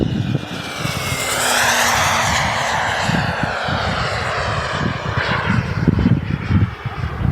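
Boomerang Lancer RC jet with a 95 engine flying overhead, a strong steady roar that swells and fades as it passes, loud and close, with no talk.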